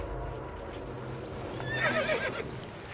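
Horses neigh in a wooded wilderness setting, a loud, shrill whinny rising and falling near the middle over a low rumbling background.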